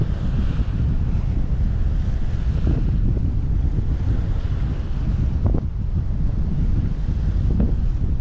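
Steady wind roaring across the microphone with the wash of waves aboard a sailboat at sea in about 18 knots of wind, a constant loud rushing broadband noise with occasional slaps of water, no voices.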